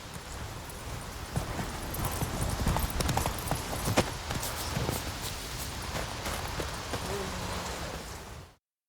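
Roach the horse gallops in The Witcher 3: Wild Hunt, a dense, steady run of hoofbeats that continues throughout before cutting off abruptly near the end.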